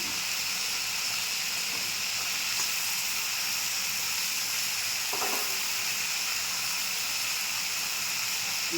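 Eggplant pieces go into a hot pan and give a steady, quiet hissing sizzle with a soft stirring clatter partway through. No voices are heard.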